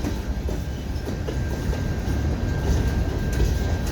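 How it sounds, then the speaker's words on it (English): Rumbling freight hopper and tanker cars back steadily over a canal bridge at close range, a continuous low clatter of wheels and rails with faint metallic squeal. "this is the section of hopper cars and a few tanker cars backing up over the canal bridge."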